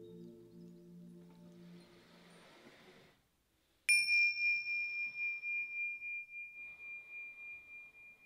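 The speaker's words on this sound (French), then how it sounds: "La méditation commence par un son de cloche" A single meditation bell is struck once after a stretch of quiet, ringing out in a clear bright tone that decays slowly with a gentle pulsing shimmer. Faint sound precedes it before near silence.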